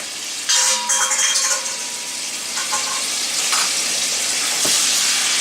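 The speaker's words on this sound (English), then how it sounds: "I'm going to hit it with the 2 tablespoons of garlic" Two tablespoons of garlic sizzle in about five tablespoons of olive oil for a broccoli and rigatoni side dish. The hiss is loud and steady, with a few brief clinks and stirring scrapes and no voices.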